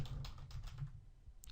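Close, rapid typing on a computer keyboard, with a dense run of soft key clacks lasting throughout and no talking.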